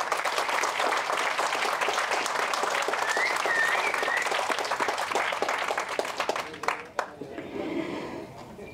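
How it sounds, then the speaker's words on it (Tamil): A film trailer launch audience breaks into dense, sustained applause that fills the hall, loud and steady before thinning into scattered claps and murmurs near the end. "கைத்தட்டல் வேணும்."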